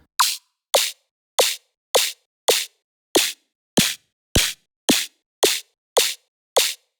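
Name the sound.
frequency-shifted snare drum sound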